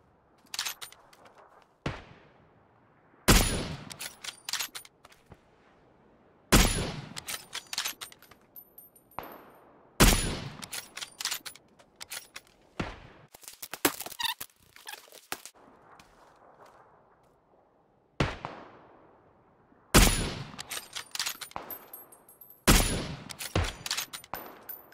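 Gunfire in PUBG on the Erangel map comes in sharp, loud bursts and single shots spread across the clip. Quiet gaps fall between the volleys.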